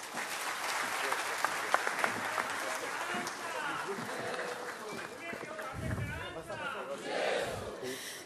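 Audience applauding after a speech by Yuvraj Sambhaji Raje Chhatrapati at a centenary event of the Bahishkrit Hitakarini Sabha, a dense, sustained crowd clapping with cheers mixed in and a voice speaking over it near the end.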